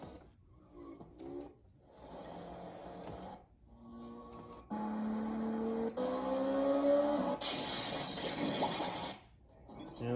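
Ridge Racer 2 race car engine from the arcade video game, a synthetic engine drone that rises and shifts pitch in several stretches of revving with brief gaps, loud and continuous with game effects layered over it.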